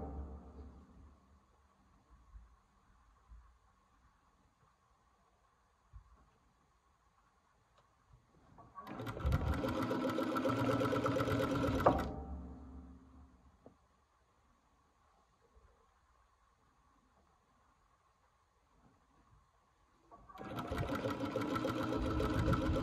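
A sewing machine stitches a dress while its elastic is stretched evenly from both sides, running in two sustained, fairly loud bursts of steady mechanical whirring separated by a long quiet pause.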